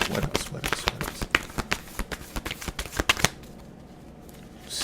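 Tarot cards are shuffled in a quick run of crisp riffling snaps, fairly close, then the sound stops and only faint room noise remains.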